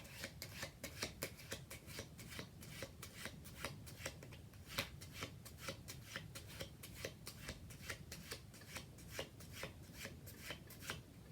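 Playing cards are shuffled by hand in a French-style shuffle: a quiet, continuous run of quick riffling clicks and soft paper slaps at close range.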